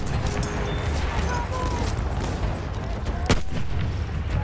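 Battlefield 1 game gunfire rolls through as a dense, loud, continuous wash of shots and rumbling battle noise, with one sharp crack standing out near the end.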